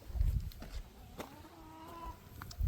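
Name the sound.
chickens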